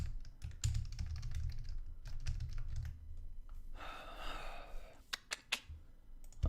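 A malfunctioning computer keyboard clacks in uneven bursts of keystrokes, close and moderately loud, broken by a breathy sigh midway and a few sharp final taps.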